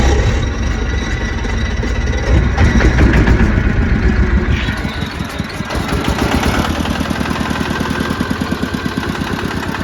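A single-cylinder KRT-140 household farm tractor engine is cranked and starts, then settles into a loud, close, rapid thumping idle with a shaky rhythm; no speech.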